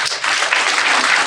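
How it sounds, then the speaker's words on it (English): Audience clapping during a business podcast, a short, dense burst of applause from a small group, close and fairly loud, steady from start to finish with no talk over it. "Clap that up."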